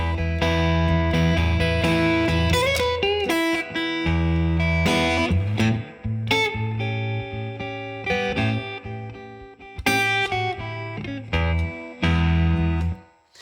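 Unaccompanied electric guitar plays a slow blues lick in E, with bent notes and ringing chords in a relaxed, uneven rhythm, close and clear with no talking.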